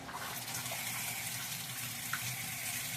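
A faulty Whirlpool washing machine fills with water in a steady, continuous rushing hiss, close and unbroken, with no voices.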